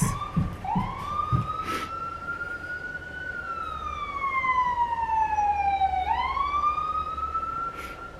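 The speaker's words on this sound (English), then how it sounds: "Oh, here comes an ambulance." An ambulance siren wails in long rising and falling sweeps, growing louder as it approaches, then holding strong before easing slightly, over steady traffic rumble.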